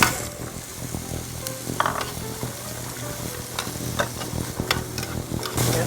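Beets and onions cook together in a pot of borscht, giving a steady close sizzle with scraping stir strokes and light clinks spread through it. No one talks.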